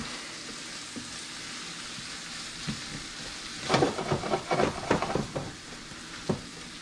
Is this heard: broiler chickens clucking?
no